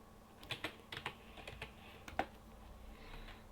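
Fingers tap out a short burst of clicks on a keyboard, entering text into a search field; the keystrokes come in an uneven quick rhythm, close and fairly quiet, with no talking.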